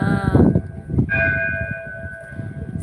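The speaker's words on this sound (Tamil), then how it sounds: "தெய்வீக இசை கடிகாரம் ஒலிக்கும் நேரம் எட்டு மணி டிங் டிங் டிங் டாங்" A musical clock at a Shiva temple strikes eight o'clock with bright bell-like tones that ring out and then hold as a long, clear sustained chime.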